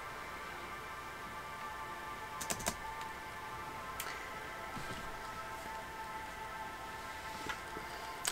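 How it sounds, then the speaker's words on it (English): Computer keyboard keys are pressed while The Longing is played, a few faint, sparse clicks over a steady low hum, distant and quiet, with no talk. "I think I prefer using the space bar on the keyboard for the walking portion"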